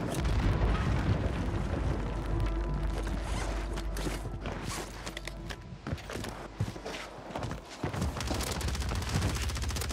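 A grenade blows up in the Warzone shooter game amid a dense, loud barrage of booms, gunfire and crackling blasts that keeps up almost without pause.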